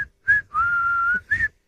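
A person whistles a short tune in clear, sustained notes with brief pauses between phrases, close and alone.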